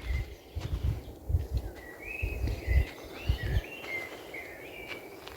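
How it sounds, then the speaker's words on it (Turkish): Birds sing outdoors in nature, with clear repeated whistled phrases at a moderate distance over low rustling and thumping handling noise close by. "Şöyle doğayı, kuş seslerini çekmek, dinlemek çok güzel."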